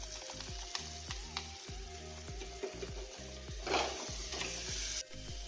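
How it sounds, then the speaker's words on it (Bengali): Masala spices for chicken handi, with whole garlic and Kashmiri chili powder, frying and sizzling in a pan. Soft continuous sizzle with rhythmic scraping and stirring strokes of a spoon against the pan, close and fairly quiet. "মশলা দেখুন কত সুন্দর কষানো হয়ে গেছে।"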